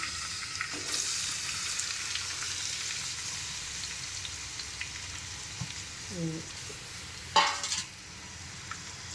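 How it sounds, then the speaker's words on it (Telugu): Ingredients for a tomato egg curry sizzle in hot oil over a low flame, a steady close frying hiss with a few brief metallic clinks of a utensil toward the end. "చూడండి ఆయిల్ వేడైంది. ఏం లేదండి, దాన్ని సిమ్లో పెట్టేసి ఇంగ్రీడియంట్స్ అన్నీ ఇలా వేసుకోండి."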